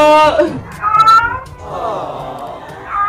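A mother cat cries beside her dead kitten with drawn-out, wavering meows that come in several pulses at close range, with a voice mixed in.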